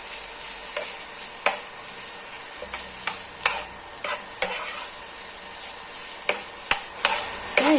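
Pork and pounded spice paste stir-fried in a pan, giving a continuous sizzle broken by frequent sharp scrapes and clacks of a spatula in an irregular rhythm, close and alone without speech.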